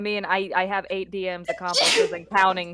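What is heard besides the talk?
sneeze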